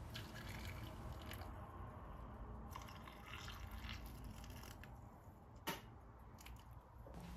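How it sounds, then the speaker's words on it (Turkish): Hot boiling water poured into pickle jars, a soft steady stream of liquid filling glass throughout, faint and close with no talking. "üzerlerine geçecek kadar sıcak kaynar suyu ekliyorum"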